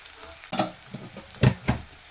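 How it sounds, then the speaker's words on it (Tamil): Onion and garlic saute in a pan for a spicy green chilli mandi. A few close spatula scrapes and stirs come over a faint sizzle, and nobody speaks. "இப்போது இந்த வெங்காயமும் பூண்டும் நல்லா வதங்கட்டும்"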